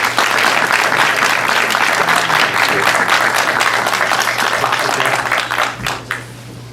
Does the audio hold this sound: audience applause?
yes